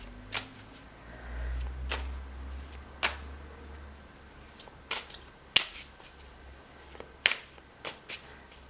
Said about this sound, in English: I'm going to use for you the Spiral Tarot. So let's see, I'm going to shuffle.